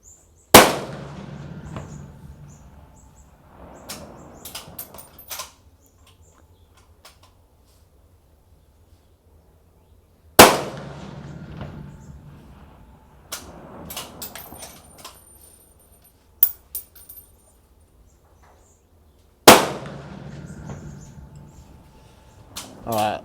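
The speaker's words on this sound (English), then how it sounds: "load up the mag, put the bolt in, and we'll fire your 3 shots." Three rifle shots at a shooting range, each a sharp loud crack spaced about ten seconds apart, with a decaying echo and faint handling noises and speech in between.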